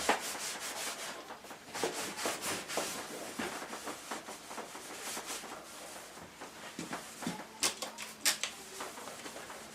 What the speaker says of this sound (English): a little wipe over of the polish